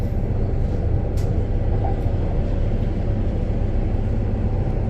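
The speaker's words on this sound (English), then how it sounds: "Another train going back to Yanchep." A Transperth electric train heading back to Yanchep on the Joondalup line rumbles past, a continuous loud, low roar with steady rolling noise throughout.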